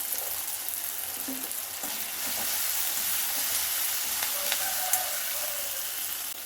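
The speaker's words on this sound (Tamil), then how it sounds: "இது கூடையே நான் கொஞ்சம் சின்ன வெங்காயம் போட்டுக்கிறேன்" Small onions frying in a pan for mutton chukka give a constant close hiss and sizzle with faint crackles and a few light stirring clicks, and no talking.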